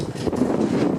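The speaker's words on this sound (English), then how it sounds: "So sorry about the wind noise in advance." Low, muffled rumbling of wind buffeting a microphone fills the short moment, steady with slight fluctuations.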